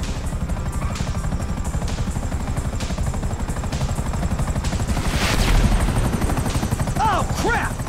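A helicopter in Grand Theft Auto V thuds with a steady, rapid rotor beat during a mission, and bursts of gunfire sound over it. A voice shouts briefly near the end.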